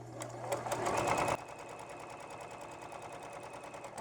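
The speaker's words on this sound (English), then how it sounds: "Just sewing the last of my chain sewing through here." Sewing machine chain-piecing quilt fabric strips and squares, whirring at a steady fast stitch rhythm close by, loud at first and then settling into a quieter continuous hum, with a voice speaking over it.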